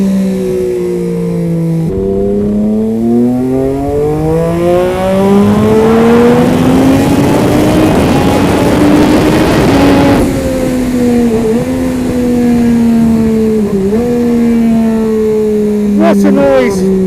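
A Triumph Moto2 prototype motorcycle engine screams loudly as it is ridden, with a high, sustained wail that climbs and holds, then dips and recovers through gear changes. Engine noise fills the whole stretch, with wind rushing over it.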